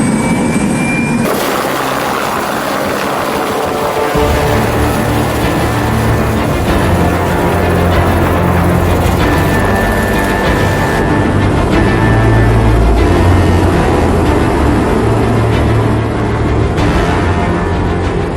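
A loud, steady roar of a helicopter flying over the Tasman Glacier in New Zealand, engine and rotor noise constant and close throughout, with no voices.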